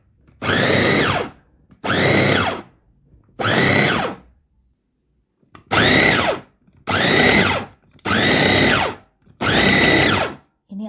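A Mitochiba CH100 electric food chopper grinds beef for meatballs in seven short pulsed bursts of about a second each, separated by brief pauses. The motor whine is loud and close, with no talk.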